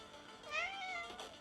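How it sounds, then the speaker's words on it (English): A cat in the video game Particulitix gives a short, rising-and-falling meow, fairly faint with a clear tonal sweep. "little kitty cat"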